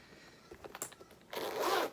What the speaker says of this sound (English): The zipper is really nice and smooth.